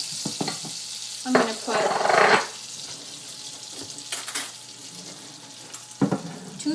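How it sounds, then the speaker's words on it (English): Margarine warming in a pan for an oatmeal dish, giving a low steady sizzle with a few louder stirring bursts and clinks, while a voice talks briefly at the start. "a tiny bit of margarine that I have warming up"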